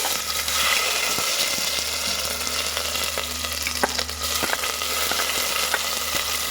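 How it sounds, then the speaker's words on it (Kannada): Onions sizzle and crackle steadily in hot oil for a Mangalore-style fish sambar, with faint stirring scrapes and small pops throughout and no voices. "ಇವಾಗ ಎಣ್ಣೆ ಕೂಡ ಕಾಯ್ದಿದೆ ಟೊಮೊಟೊ ಹಾಗೆ ಈರುಳ್ಳಿನ ಹಾಕ್ತಾ ಇದ್ದೀನಿ ಫಸ್ಟು ನಾನು ಈರುಳ್ಳಿ ಹಾಕ್ತಾ ಇದ್ದೀನಿ"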